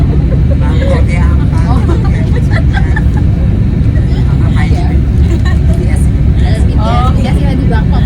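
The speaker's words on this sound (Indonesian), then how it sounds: "Finally pertama kali di hari ini kita naik bus" Rumbling engine and road noise fill the inside of a city bus in Bangkok, loud and steady throughout, with people talking over the drone.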